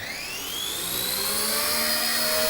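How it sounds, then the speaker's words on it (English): A small K123 collective-pitch RC scale helicopter spools up for takeoff in a backyard, its high whine rising steadily in pitch and loudness, close and alone. "It is a collective pitch helicopter"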